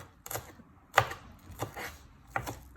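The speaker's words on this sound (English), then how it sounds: "I'm always surprised by how much green onions gets produced by cutting up a green onion." A knife chopping green onions on a cutting board while making dumplings: a few separate sharp chops with short pauses between them, close and moderately loud, with no talk.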